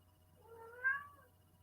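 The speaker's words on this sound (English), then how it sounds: "Otherwise, we're going to hear her meow the whole time." A house cat lets out a single faint, drawn-out meow in a quiet indoor room, distant and soft against a low steady hum.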